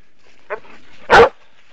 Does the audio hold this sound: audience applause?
no